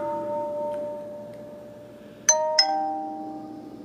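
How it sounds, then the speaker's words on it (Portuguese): Two clear metallic strikes of a mindfulness bell ring out close together, each leaving a sustained shimmering tone over a steady background hum. "Ó meu sino de atenção plena aí, gente."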